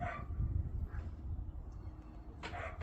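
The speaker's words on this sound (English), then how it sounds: "I hear that other puppy dog barking." A puppy barks a few times at a distance, with soft yips against a low background rumble.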